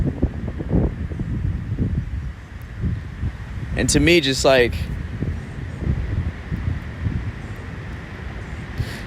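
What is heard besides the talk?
wind blowing by Lake Michigan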